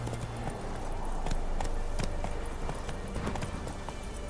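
Roach, the horse in the video game The Witcher 3, clip-clops along in a steady, continuous rhythm of close hoofbeats over a low ambient bed.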